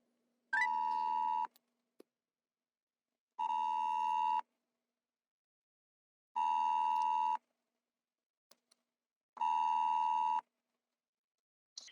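A telephone call goes out, and four evenly spaced electronic ringback tones sound, each about a second long with pauses between them, clear and alone with a few faint clicks.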